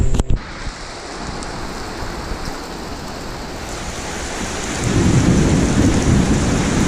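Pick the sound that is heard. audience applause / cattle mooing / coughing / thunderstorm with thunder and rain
thunderstorm with thunder and rain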